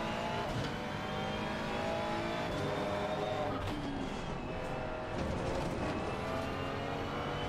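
The turbocharged engine of a 2023 Ferrari 296 GT3 race car in Assetto Corsa Competizione revs hard and steadily at the Valencia track. Its droning tone rises and falls through the gears, loud and continuous, with no talking over it.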